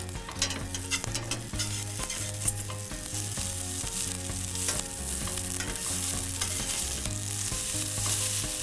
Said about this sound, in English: now we're just gonna start flipping it so we get all the noodles nice and crispy